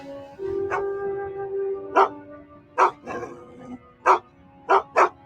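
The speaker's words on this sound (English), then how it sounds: "The dog just started just barking and just going crazy and just snarling." A dog barks in short, sharp bursts, about six loud barks spaced irregularly, with a whining, whimpering tone carrying between them.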